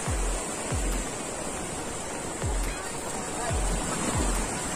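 Surf rolls in at Teluk Ijo (Green Bay) beach in Banyuwangi, a steady wash of waves with soft, regular low thuds, loud and close, with voices faint in the mix.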